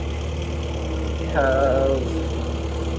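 A skid steer engine idles with a steady low diesel hum and rumble throughout, close and continuous, while a voice speaks briefly over it.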